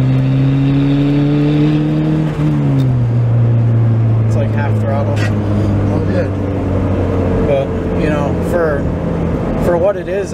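A turbocharged Honda Prelude pulls hard under boost in third gear. The engine's loud, steady drone climbs in pitch, with a brief shift dip, and is heard from inside the car.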